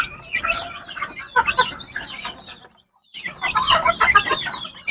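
Several hens, one a Rhode Island, cluck and murmur close by in overlapping bursts, pausing briefly before the clucking resumes, with no talking.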